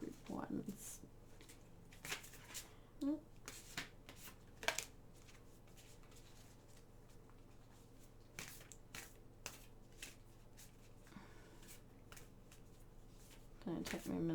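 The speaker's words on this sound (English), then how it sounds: "It'll take me a minute to shuffle these oracle cards because they're kind of big and my hands are tiny." Large oracle cards are shuffled by hand in quiet, intermittent bursts of soft riffling and sliding, with occasional taps and rustles between quieter stretches.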